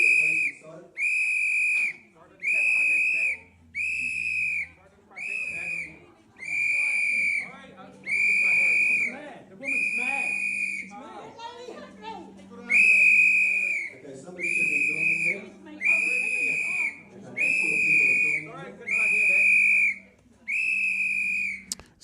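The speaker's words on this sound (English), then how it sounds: "Blows the whistle, and then look" Whistle blown at a street protest in repeated shrill blasts, about a dozen across the stretch, loud and close, with shouting and talk mixed in between and beneath the blasts.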